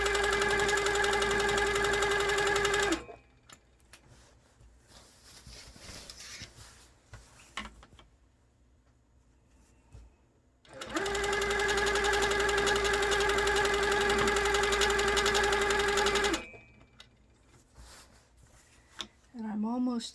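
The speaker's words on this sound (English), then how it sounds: "I'll just be continuously stitching to come back down the other direction" A sit-down midarm quilting machine runs for two long continuous stretches of steady, loud whirring stitching, split by a quiet pause with faint handling noises, and a voice talks near the end.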